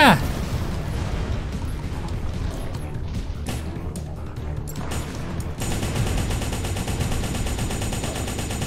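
Mech weapons fire in the video game M.A.S.S. Builder, with bursts of gunfire and missile blasts crackling over a dense game soundscape, sharp repeated shots in the first half giving way to a steadier roar.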